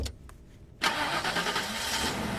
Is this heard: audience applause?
no